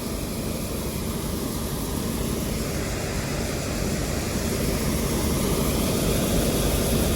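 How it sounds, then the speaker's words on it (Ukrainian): Claas Lexion 560R combine harvester with a Mercedes OM 364 engine unloading spring wheat during harvest, a loud continuous broadband engine and auger roar with a steady high whine, close and unbroken. "Пішла вигружатись наша яра пшениця."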